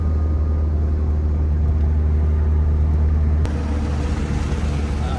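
Mitsubishi Evo driving on the road on a cold day with the window down, a steady loud engine drone and road rumble from inside the car, with no change in pace.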